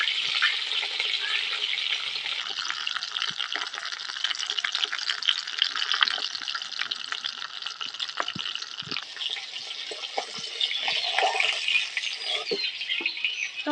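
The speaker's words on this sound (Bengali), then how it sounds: "তো অল্প অল্প করে মাছগুলো ভেজে নেবো।" Live lata fish fry in hot oil, a dense, loud, continuous crackle and spatter of sizzling that holds steady close up throughout with no talk.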